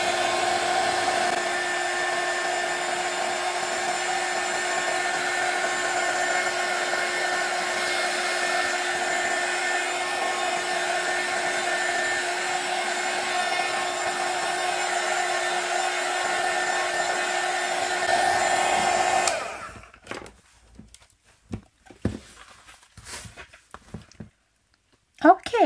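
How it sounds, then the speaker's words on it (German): A hair dryer is used for heat embossing on a Halloween house craft project, a loud, steady motor whine and blowing hum that runs for about nineteen seconds and then switches off, leaving brief faint handling noises. "Also heizen wir jetzt mal den Föhn auf. Der Föhn ist vorgeheizt. Also fangen wir jetzt an zu embossen."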